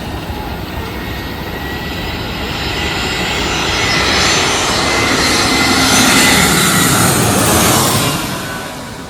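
A loud aircraft engine roar swells steadily as a plane passes overhead, building to a peak and then beginning to fade, with no voices.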